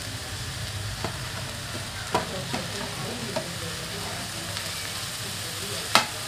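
Chopped onion, potato, carrot, beans and coriander sizzle steadily in a pan for sabudana khichdi, with a few sharp scrapes of a stirring spoon against the metal rising above the constant frying hiss.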